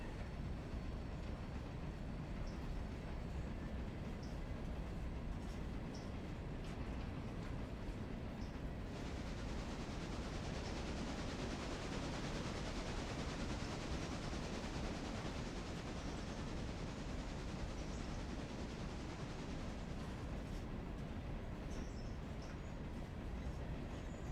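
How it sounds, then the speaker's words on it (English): A heavy 496-ton train in the game Railroader rolls along the rails with a continuous low rumble and rushing wheel noise, steady and fairly loud throughout with no talk. "So this train is 496 tons."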